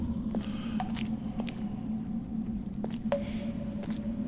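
Water drips in a horror video game, sparse wet plinks and soft squishes falling at irregular intervals over a low steady ambient hum, faint and hollow.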